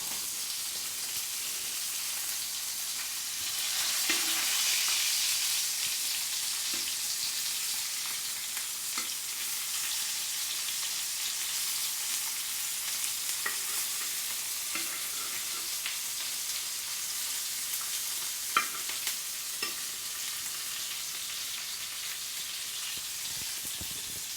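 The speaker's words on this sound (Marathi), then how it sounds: "आता आपण दुसऱ्या बाजूने व्यवस्थित परतून घेऊया व्यवस्थित भाजलं गेलं पाहिजे तळलं गेलं पाहिजे" Pomfret coated in semolina sizzles steadily as it fries in a pan, a continuous crackling hiss with occasional brief louder pops, close and alone with no talking.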